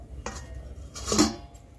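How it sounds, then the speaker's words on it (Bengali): A metal lid is set on a cooking pan of boiling shelled peas, giving two close clattering knocks, the second louder and ringing briefly. "এবার পাঁচ মিনিট চাপা দিয়ে দেব"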